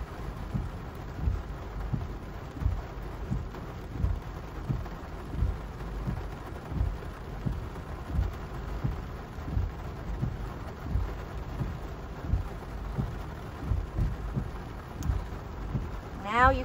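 Steady rain falls throughout with a soft, continuous patter, joined by low rumbling gusts; no voices are heard.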